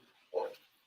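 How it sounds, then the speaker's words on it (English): A single short dog bark, fairly close and moderately loud, from a pet dog named Monty in a home kitchen, standing alone against quiet. "Whose dog is that?"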